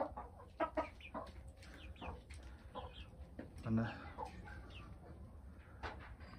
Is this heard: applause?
no